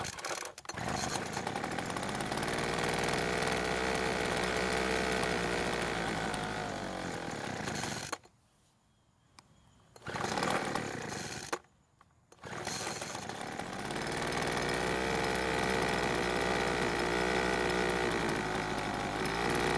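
A Poulan Pro leaf blower's small two-stroke engine runs at a steady, buzzing roar after a carburetor adjustment, nearby and loud, briefly dropping out twice before revving back up.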